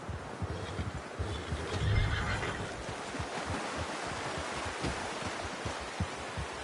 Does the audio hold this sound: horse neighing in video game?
yes